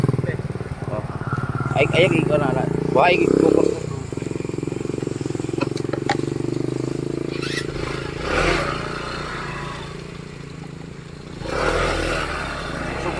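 A motorcycle engine idles and putters steadily, with some clattering, while people talk over it.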